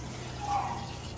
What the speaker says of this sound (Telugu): వాటర్ పోసేస్తున్నా. ఈ కోడి మొత్తం ఉడిగిపోయి అంత వాటర్ పోసుకోవాలి.